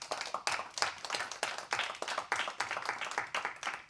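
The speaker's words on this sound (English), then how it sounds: "Could I get a warm round of applause for our panellists?" Audience clapping for panellists at a horticulture talk, a modest scattered round of hand claps with uneven rhythm, fairly faint and steady for a few seconds.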